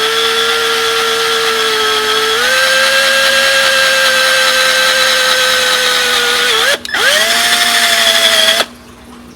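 Power drill with a big bit spins steadily under light pressure, recessing a screw head on a racing axle jig, pitch dipping briefly as the bit bites before the motor cuts off near the end.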